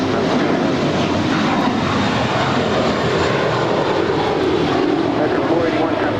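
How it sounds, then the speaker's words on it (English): An American Airlines Boeing 777 taxis at LAX and makes a U-turn, its engines giving off a loud, steady, broad roar that holds without a break. "The American 777 making the U-turn"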